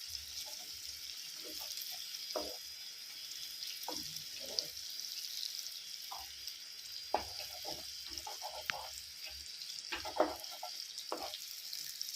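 Eggs fry in a pan seasoned with turmeric and salt, giving a soft, steady sizzle. A spoon or spatula scrapes and taps now and then as the eggs are turned, and no one speaks.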